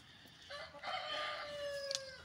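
Chickens clucking and crowing nearby, with a drawn-out rooster-like call rising over quieter fowl sounds.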